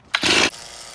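A chainsaw mill cuts through a log, a single short loud burst of saw engine roar lasting about a third of a second before dropping to a lower idle.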